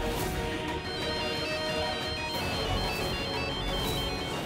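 A phone ringtone plays continuously, a busy melodic electronic tune ringing without pause and with no voices over it.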